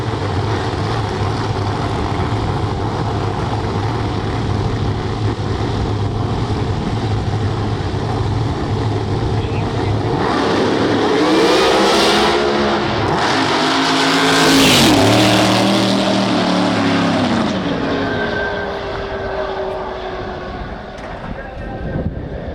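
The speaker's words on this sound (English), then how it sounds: "Tim Brown goes up ahead with a solo pass here in Q1." A drag racing car makes a solo qualifying pass at an IHRA Nitro Series event, its engine roaring loud and building to a peak before fading, with a commentator talking throughout.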